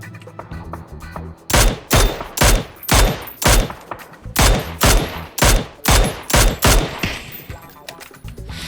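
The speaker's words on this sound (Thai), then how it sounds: "ยิงอะไรเนี่ยยิงยอดไม้อะ" Bursts of automatic gunfire in the video game PUBG, about a dozen loud, close rapid volleys in a steady rhythm, following a brief quieter stretch.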